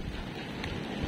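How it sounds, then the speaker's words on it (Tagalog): Heavy rain and strong wind roar outside a house in a steady, dense wash of noise with wind rumble on the microphone, fairly loud and unbroken throughout, with no voices. "ngayon ay malakas na yung ulan at saka hangin"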